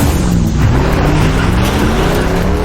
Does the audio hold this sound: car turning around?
yes